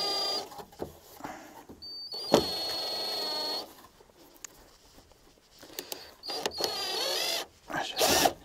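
Screw being tightened while fitting a front spoiler on a BMW E30, heard as a steady whirring drill-like run of a couple of seconds, then several short sharp taps and scrapes, and a second whirring burst near the end.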